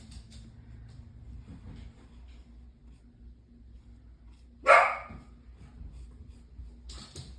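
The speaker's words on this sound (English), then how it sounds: "I used to try to get my dog to stop barking" A single sharp dog bark rings out at a distance, with a fainter second one near the end, over a low steady hum.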